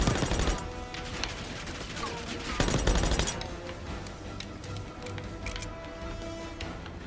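Rapid gunfire erupts in Call of Duty: Black Ops 6 combat against enemies, dense bursts and sharp shots layered over game ambience, loudest in the opening seconds and again midway.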